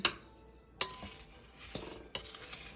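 Spoon clinks and scrapes against a bowl while cranberry pie batter is mixed, sharp metallic taps at irregular intervals over soft stirring, close and quiet, with no talking.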